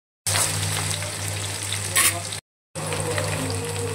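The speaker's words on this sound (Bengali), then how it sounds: "এবারে অ্যাড করব পেঁয়াজ।" Onion sizzling and frying in hot oil with whole spices (dried chilli, bay leaf, cardamom, clove, cinnamon, cumin) for Bengali fish kalia, a loud steady crackle with a brief stir, a short gap, then the frying resumes.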